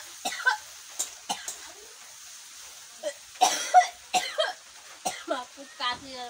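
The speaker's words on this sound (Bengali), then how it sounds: "খুব কাশি জানো।" A person nearby coughs in a series of sharp, separate bursts with short pauses between them, alongside a few throat-clearing sounds in an otherwise quiet room.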